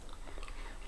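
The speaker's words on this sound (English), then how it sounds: "I do like the texture of the crisp. Very crunchy, and the added toffee makes it very yummy. Very chewy and crunchy." Crunchy toffee crisp chocolate bar being bitten and chewed close up, a dense, continuous crackling crunch with no voices.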